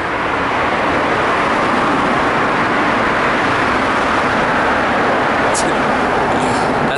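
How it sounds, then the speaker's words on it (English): Loud, steady roadway roar from traffic overhead while passing through a tunnel, a dense continuous rumble with no voices, holding at high level throughout. "pardon me if it gets pretty loud here in a second because we're going over a tunnel"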